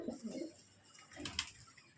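Pigeons of a fancy flying breed coo softly in a loft, a couple of low, murmuring calls that are faint and close, with a little background noise.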